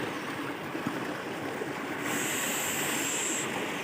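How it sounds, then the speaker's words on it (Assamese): A fast-flowing river near Kaziranga National Park, a steady broad rush of water heard alone and fairly close, growing slightly louder toward the end. "এইবেগে বৈ গৈছে নদীখন"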